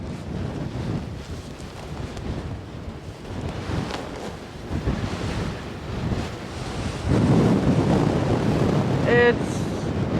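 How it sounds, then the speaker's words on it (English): Strong wind drives waves during a snowstorm in the polar night on Svalbard, making a continuous roaring, rushing wash that swells louder toward the end, with a brief higher tone near the close. "so windy."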